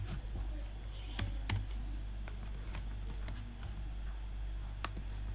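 Computer keyboard keys clatter in short, uneven bursts of typing while code is written in VS Code, a few sharper clicks standing out over a steady low hum, close and fairly quiet.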